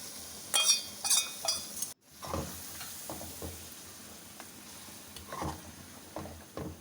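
Mutton mixed with ground cinnamon and other spices being fried in a pot for biryani: a steady, soft sizzle with scraping stirs and a few clinks, near and without talking.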